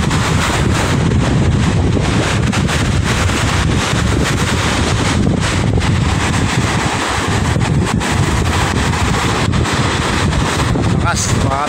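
Waves wash against the shore at Manila Bay in Navotas, a steady roar under heavy wind buffeting the microphone throughout, with someone talking over it.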